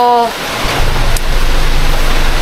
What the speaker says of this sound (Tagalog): malakas po ang ulan, mga kabisnes